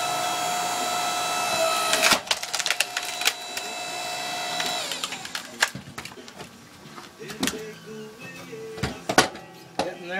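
A solar-powered wood splitter runs indoors on dry wood. A steady motor whine holds, then cuts off midway, followed by sharp irregular clicks and cracks, with some voice mixed in.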